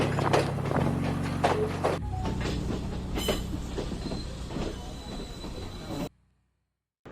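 A train on the Ella line in Sri Lanka, heard close with a steady rumble, repeated rhythmic clatter of wheels on rail joints and a brief squeal, continuous for about six seconds before cutting to silence.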